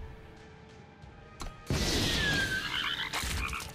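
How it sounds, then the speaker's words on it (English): The Rain of Frogs card in a video game sets off a burst of loud croaking frogs, beginning with a sudden swell and a few faint croaks beforehand, then a dense overlapping chorus with a whooshing sweep. "That's the first time I've heard Rain of Frogs."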